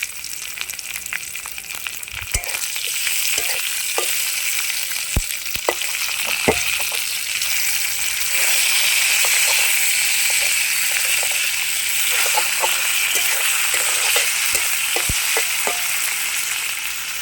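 A slit green chili and a quartered tomato fry in hot oil, giving a continuous bright sizzle with occasional sharp pops and stirring scrapes, close and steady for a long stretch, with no one talking.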